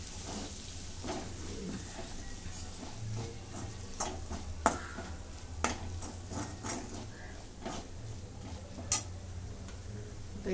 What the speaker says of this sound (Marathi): थोडीशी हळद आणि काश्मीरी मिरची पावडर थोडीशी. आता हे परतून घ्या.